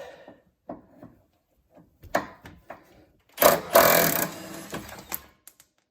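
An impact gun works on a stabilizer end link of a 2012 Hyundai Tucson, a loud burst of rattling hammering for about two seconds after scattered clanks and tool handling in a garage.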